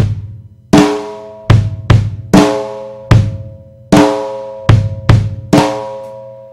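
A drum kit plays a classic rock beat with flammed snare hits over kick drum, giving crisp doubled strikes in a loud, steady groove with nothing else heard.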